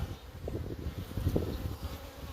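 Bees buzz steadily and densely inside an opened six-frame wooden beehive, a close, continuous insect hum with no talking.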